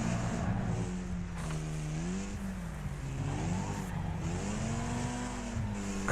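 Race car in the Wreckfest video game, a loud engine droning continuously with its pitch rising and falling through gear changes and cornering, plus brief tire noise.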